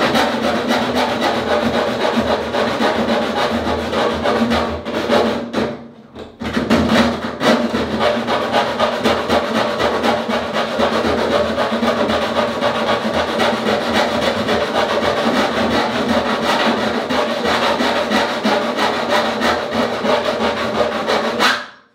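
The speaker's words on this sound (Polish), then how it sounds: "Bo tnę pod tym kątem, czyli ząbki nie mają o co się opierać jak wracają" A hacksaw blade saws steadily through the metal bonnet of a BMW car, a loud, continuous rasping stroke rhythm close up that pauses briefly partway through before resuming until the end.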